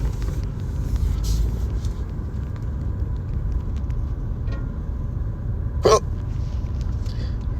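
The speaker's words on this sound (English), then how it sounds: "I just got hiccups out of nowhere." A single sharp hiccup from a person breaks through a steady background of road traffic rumble, loud and close, with no talk at that moment.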